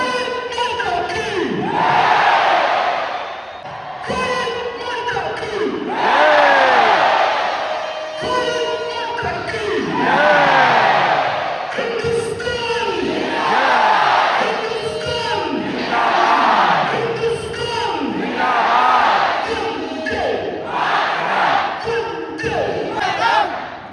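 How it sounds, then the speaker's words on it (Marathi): A huge crowd at the India–Pakistan border ceremony roars and chants in rising waves, loud swelling cheers and shouted slogans repeating every few seconds, with clapping buried in the din. "लोक टाळ्या आणि जयघोष करून त्यांना अक्षरशः डोक्यावर घेतात"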